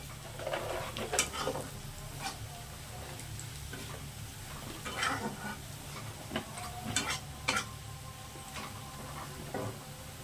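Chopped onions sizzle and crackle in hot oil with bay leaves as a base for chicken biryani, with steady close frying hiss and scattered stirring clicks and scrapes throughout.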